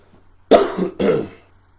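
Two sharp coughs in quick succession, close and fairly loud, against a quiet background.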